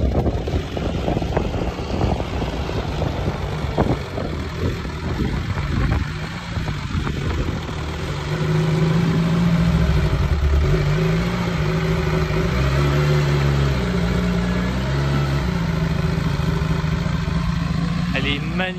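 A Porsche engine running loudly at a steady pitch, mixed with background voices while the car is loaded onto a trailer.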